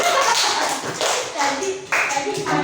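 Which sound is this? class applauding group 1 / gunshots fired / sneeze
class applauding group 1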